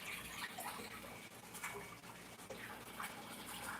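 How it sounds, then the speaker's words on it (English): Fresh tap water pumped into a home fish tank, a steady splashing and gurgling stream with small bubbling bursts, continuous and fairly close. "I'm adding fresh water to the tank"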